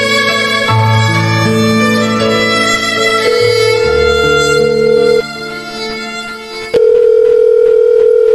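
A steady, loud telephone tone plays continuously at close range, shifting partway through and then holding steady. No voices are heard.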